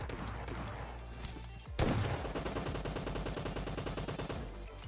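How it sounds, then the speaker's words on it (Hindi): Gunfight in a battle royale video game, rapid bursts of automatic gunfire after a sharp crash, dense and continuous, fairly quiet overall, with no talking. "बहुत तगड़े गन फाइट की साउंड आ रहे थे"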